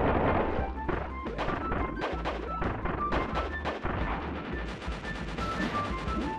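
Cannon blasts smashing through rocks in the Nintendo Switch game Kirby Star Allies on the Falluna Moon stage, a dense run of loud, rapid booming impacts and crashes layered over busy game music.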